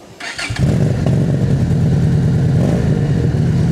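A motorcycle with a 2-in-1 exhaust starts up and settles into a steady, loud, close idle.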